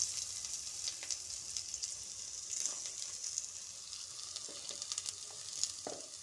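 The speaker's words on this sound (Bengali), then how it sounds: "এবার আমি আগে থেকে কেটে রাখা পেঁয়াজগুলো দিয়ে দেব।" Chopped onions frying in hot mustard oil in a pan, a steady close sizzle with occasional stirring scrapes and clinks throughout.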